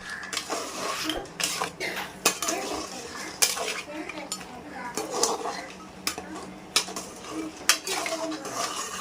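A spoon stirs a pot of crab curry after water has been added, making repeated metallic clinks and scrapes against the vessel with a faint sizzle underneath.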